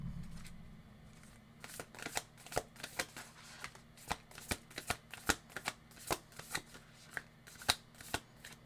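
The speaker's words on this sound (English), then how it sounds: "That was a bad shuffle." Tarot cards being shuffled by hand in repeated quick riffles, crisp snapping bursts close by in a quiet room.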